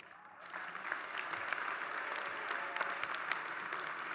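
Sustained applause from a large audience at a university graduation ceremony, steady and dense clapping that swells in after a brief quieter start and holds at an even level throughout.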